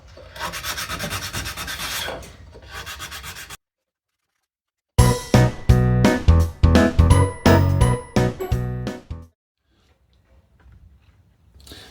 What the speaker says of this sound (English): So I got those sanded up.